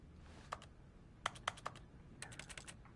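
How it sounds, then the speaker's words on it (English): Faint computer keyboard clicks while playing The Stanley Parable: a few scattered taps, then a quick cluster of sharper key hits and a spacebar smash, over a soft background hiss, with no talking. "My interact sound effect is just me clicking"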